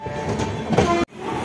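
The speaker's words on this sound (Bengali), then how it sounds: "এই ট্রেনে আমরা চাপবো এখন," Local train rumbling at a station platform, a steady mid-level clatter and hum with a sharper rise near the end before a sudden drop, then the low rolling noise continuing.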